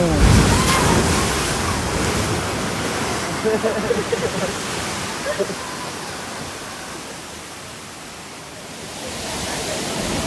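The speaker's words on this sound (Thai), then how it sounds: "เวลาที่คลื่นซัดมาแรงๆค่ะ มันจะทำให้เกิดเสียงเหมือนกับเสียงฟ้าร้องเลยค่ะ" Loud, steady roar of surf surging and churning into Thunder Hole, a rock inlet in Acadia National Park, Maine, close by, a dense wash of water noise with wind buffeting throughout.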